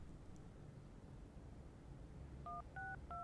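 A telephone number is dialed on a keypad, three short distinct tone beeps in quick succession near the end, following a quiet stretch of low background hiss in an indoor drama scene.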